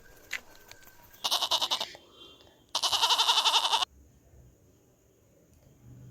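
Animated goats fighting with their horns let out two loud, wavering bleats separated by a short pause, with quieter background sounds around them.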